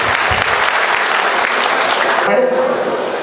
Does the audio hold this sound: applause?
yes